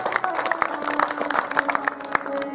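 At a devotional gathering an audience claps in welcome, sharp scattered hand claps sounding over a sustained musical tone and crowd murmur, moderately loud and irregular.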